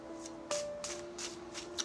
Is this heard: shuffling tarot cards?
yes